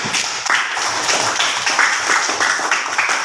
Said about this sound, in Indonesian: sebelumnya tepuk tangan dulu untuk Anda